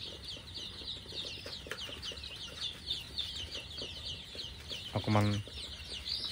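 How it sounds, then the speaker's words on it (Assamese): Local farm chickens cluck and peep softly across a poultry farm, with one louder call standing out briefly, while a person talks quietly over the flock. "300 লোকেল মুৰ্গী আছে মোৰ ফাৰ্মখনত"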